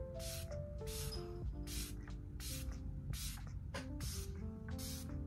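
A Focallure Kuromi setting spray is pumped as a fine mist onto a face in short, breathy hissing bursts, repeated about half a dozen times, over soft background music.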